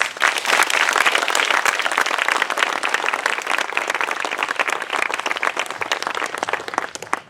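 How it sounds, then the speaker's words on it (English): An audience at a 9/11 memorial dedication in New Jersey applauds volunteers, producing a full, sustained burst of many hands clapping that stays loud and dense, then thins slightly toward the end. "Please give them a big round of applause"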